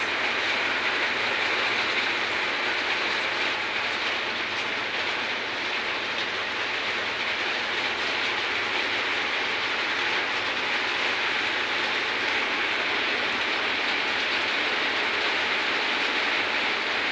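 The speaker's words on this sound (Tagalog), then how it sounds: "Pumapatak na naman ang ulan sa bubong ng bahay." Rain falls on a house roof in Kuwait during the first rain of the season. It makes a constant, even hiss that stays the same throughout.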